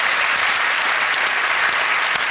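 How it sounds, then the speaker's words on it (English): Studio audience at a British TV comedy show claps in a steady, dense burst of applause, loud and close, with no talk over it. "Can you have a round of applause for Jodie Connor?"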